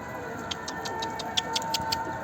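A bird making short repeated calls near a poultry coop outdoors, trying to get inside, with faint chirps spaced in a loose rhythm over a steady low engine hum and a thin high whine.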